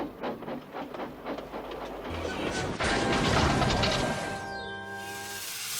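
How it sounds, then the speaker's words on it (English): A railway engine backing through a siding and smashing into rotten buffers: rumbling clatter, then a sudden loud crash near the middle, followed by lingering ringing, creaking tones. "we've smashed up into some rotten buffers it seems"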